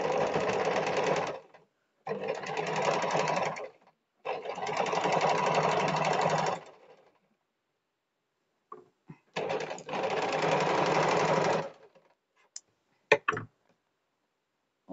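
A sewing machine stitches a hook strip onto the back of a boat neck blouse in four loud, steady whirring bursts with short pauses between them, followed by a few quiet clicks and handling sounds.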